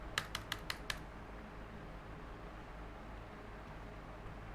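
Five quick, evenly spaced clicks of keys and Enter being pressed on a computer keyboard, crisp and close, followed by quiet room hiss.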